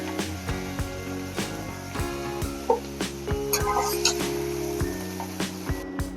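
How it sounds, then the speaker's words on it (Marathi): Chopped capsicum and onion sautéing in a pan for a vegetable korma, a steady light sizzle with a spoon repeatedly scraping and knocking against the pan, fairly close and moderate in level. "थोडं फ्राय करून घ्यायचं दोन ते तीन मिनिटं ही शिमला मिरची आणि कांदा परतून घेतल्यानंतर"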